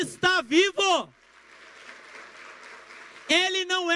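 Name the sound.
congregation applauding in church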